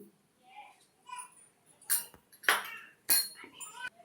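A metal spoon clinks against a pot or container while cumin seeds are added in a home kitchen, several sharp bright taps and clinks spaced irregularly, with a voice speaking in between.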